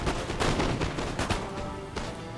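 Dense musket volleys from massed line infantry and foot guards in Napoleon: Total War, a continuous crackling roll of overlapping shots with a few sharper peaks, loud and close, with no talk.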